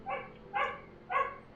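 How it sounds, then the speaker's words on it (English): A pet dog barks three times in an even rhythm, sharp, medium-loud barks from nearby indoors, with nothing else heard between them. "Apologize for my dog, by the way. She's been really barky this morning."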